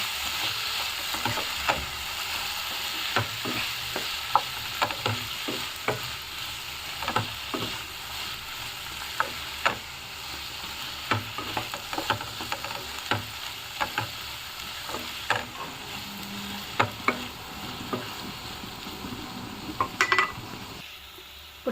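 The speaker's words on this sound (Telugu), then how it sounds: "ఒక 1/2 స్పూన్ పసుపు, తగినంత సాల్ట్ అండ్ 1 స్పూన్ కారం వేసుకుందాము. మొత్తం ఒకసారి మిక్స్ చేద్దాం." Capsicum and potato curry stirred with turmeric, salt and chilli in a hot pan: a continuous sizzle broken by many regular spoon scrapes and taps against metal, close and fairly quiet.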